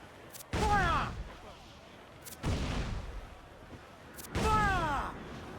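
Three booming ship cannon volleys from a naval battle in Assassin's Creed IV: Black Flag, spaced about two seconds apart, each a sharp blast with a rumbling tail, heavy and close with game voices shouting faintly underneath.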